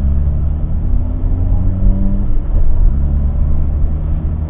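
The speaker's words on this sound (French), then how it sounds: "je viens de donner un coup d'accélération comme tu as entendu" A Citroën AX engine with a head gasket problem, driven with the hood off, revs up as the accelerator is blipped, pitch rising then settling back under a loud continuous rumble, close and alone without talk.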